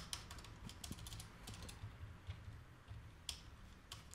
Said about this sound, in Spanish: la barra espaciadora sí tiene un sonido que no me gusta